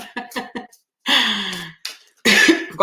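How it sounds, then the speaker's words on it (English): Several close coughs: a quick cluster of short hacks, then longer, harsher coughing bursts separated by brief pauses. "I think I'm getting a bit of a cough as well."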